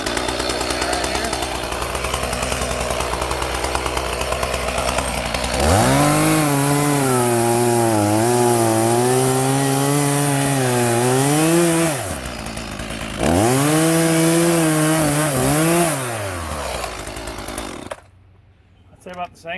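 An Echo CS440 chainsaw with a dull chain revs loud and close, cutting into wood in two long bursts with a short dip between them, then winds down at the end.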